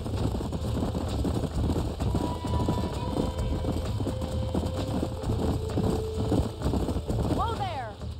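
Horse hooves clip-clop steadily at a ranch in the video game Red Dead Redemption, a continuous hoofbeat rhythm mixed with wind and outdoor ambience.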